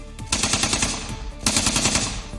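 Rapid automatic gunfire erupts during a security forces encounter with militants in Jammu and Kashmir, two sustained loud bursts of close, rattling shots with a brief gap between them.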